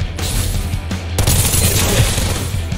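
A burst of very rapid Uzi fire in the battle-royale game Farlight 84, loud and continuous, with a sharp crack partway through and a fast, steady stream of shots after it.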